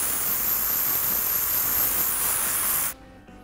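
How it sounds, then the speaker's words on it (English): Strong-hold hairspray hisses from an aerosol can onto styled rockabilly pompadour hair in one loud, steady spray lasting about three seconds, then cuts off abruptly. "I'm going to use Forceful 23,"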